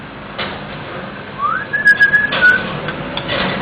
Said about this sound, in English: A tiny little parrot. Another whistle? Another little whistle for Didi.